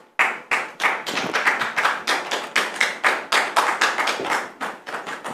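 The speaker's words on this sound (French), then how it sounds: "sous vos applaudissements, s'il vous plaît" A studio audience claps a guest onto the stage, rhythmic, evenly spaced hand claps at a brisk steady beat, close and fairly loud, with no talk over them.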